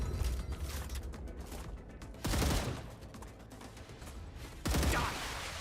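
Weapon handling in the survival game StarRupture, with dense mechanical clatter and noisy bursts, two louder sharp bursts standing out amid continuous busy noise.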